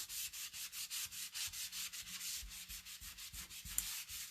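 A distress ink sponge is rubbed back and forth across a surface in steady, even strokes, a soft rhythmic scrubbing close to the listener that repeats about every third of a second, alone without talk.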